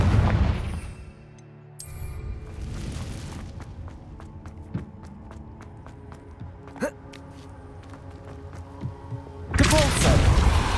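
Confringo fire spells blasting in Hogwarts Legacy on a PS5 Pro: loud, broad explosive bursts open and close the stretch, with scattered thuds and sharp impacts in between over a low rumble.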